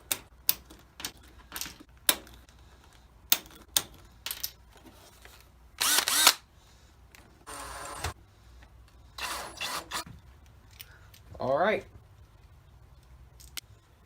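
Small screws are tightened on a 3x3 puzzle cube being made into a barrel cube, giving scattered sharp clicks and short whirring bursts of a small driver, with a voice talking in between.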